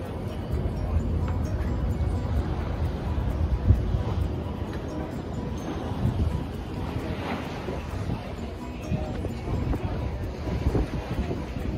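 Wind buffets the deck of the KAJAMA tall ship under sail, a continuous low roar mixed with wash of waves, loud and steady throughout.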